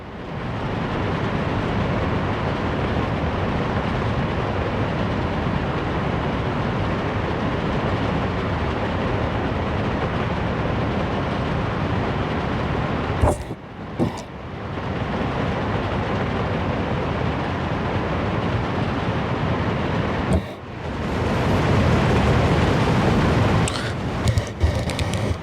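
A train runs in the Workers & Resources: Soviet Republic video game, giving a steady, loud rolling rumble that carries on throughout, with two brief dips near the middle.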